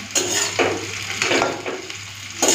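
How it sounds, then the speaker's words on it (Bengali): Onion with dried and green chillies frying in a pan, a steady close sizzle broken by rhythmic stirring scrapes about every half second. "পেঁয়াজ, শুকনো লঙ্কা, কাঁচা লঙ্কা ভাজা ভাজা হয়ে গেছে"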